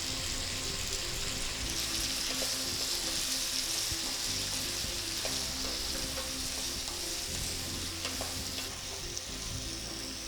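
A paste of coriander, garlic, ginger and green chili with a little turmeric fries in a pan for masala khichdi, giving a steady close sizzle with light crackles and occasional stirring clicks, no talk.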